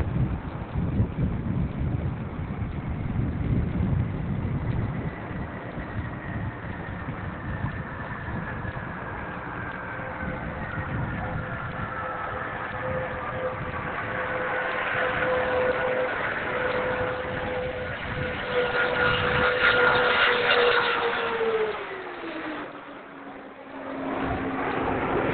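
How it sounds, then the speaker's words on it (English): The space shuttle Atlantis rolls out on runway 33 at Kennedy Space Center after a landing: a steady, distant roar with wind buffeting and a whining tone that glides downward as it slows, then drops away near the end. "Atlantis rolling out on runway 33 at the Kennedy Space Center"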